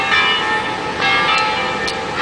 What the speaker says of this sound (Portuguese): E agora tá tocando os sinos da igreja.